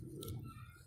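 A pigeon gives a single short, soft coo, close by and quiet, with no voices over it.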